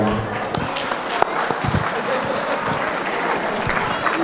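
An audience at a community Ugadi celebration with school district and city officials claps steadily and densely, a full room of applause holding level for several seconds.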